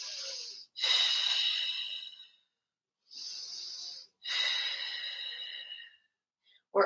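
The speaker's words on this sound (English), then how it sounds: "Take a couple breaths." During a yoga flow, slow deliberate breaths sound close and airy: two paired cycles of a sharp inhale followed by a longer hissing exhale, separated by brief silence.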